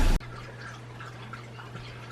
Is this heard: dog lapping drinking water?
yes